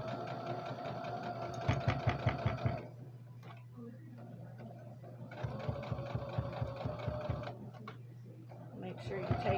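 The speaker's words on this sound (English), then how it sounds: "So all you're going to do is sew it down." A sewing machine stitches down a pillow case seam for a pincushion in two close, rapid bursts of rhythmic needle clatter separated by a quieter pause, with a steady low motor hum and someone talking in between.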